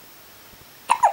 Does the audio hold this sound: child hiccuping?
yes